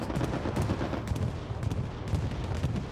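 Bombing-run explosions and gunfire in the World War II shooter Hell Let Loose, a dense, loud barrage of booming blasts and rapid shots rolling on without pause.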